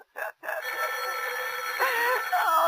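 An electronic telephone ring trilling steadily after two short clicks, close and fairly loud, with no speech.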